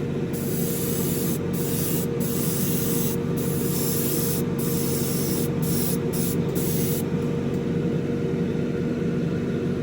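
Aerosol spray paint hissing steadily onto a model car frame being coated pink, a continuous close hiss with several brief pauses between bursts.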